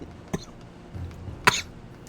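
A few short, sharp coughs, one early and a louder one about a second later, separated by quiet low rumble in a courtroom scene from Great Ace Attorney.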